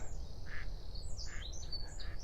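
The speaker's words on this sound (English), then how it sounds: "there's a blackcap singing over there" A blackcap sings from nearby cover in spring woodland, its bright warbling phrases rising over a low rumble of background noise, moderately faint and without any voices.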